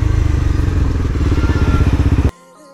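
A motorcycle fitted with an Arrow full system exhaust and dB killer idles close by with a loud, lumpy rhythmic burble, then cuts off abruptly near the end, leaving near silence.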